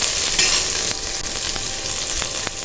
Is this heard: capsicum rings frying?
yes